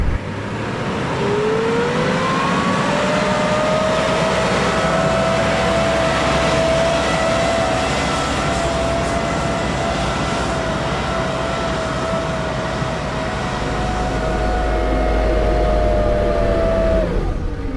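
Humvee engine straining up a sand hill held in first gear, a loud sustained drone with a long steady whine that rises, holds and then drops away near the end, surging louder in the final seconds.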